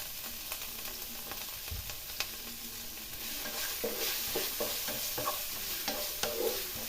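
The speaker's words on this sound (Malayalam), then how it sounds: "ഇനി നമുക്കിതിനകത്തേക്ക് ഇഞ്ചി പച്ചമുളക് വെളുത്തുള്ളി സവോള പിന്നെ കറിവേപ്പിലയും കൂടിയിട്ട് നന്നായിട്ട് വഴറ്റി എടുക്കാം" Ginger, green chilli, garlic, onion and curry leaves are sautéed in a little oil, with a quiet continuous sizzle and repeated stirring scrapes that grow busier toward the end.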